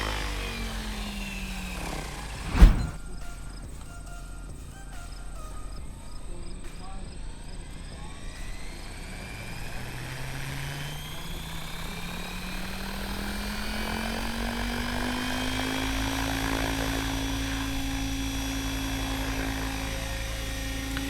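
SAB Raw 700 RC helicopter flying and landing, a loud whining turbine-like rotor drone with rising and falling pitch as it manoeuvres and then winds down, a sharp knock early on.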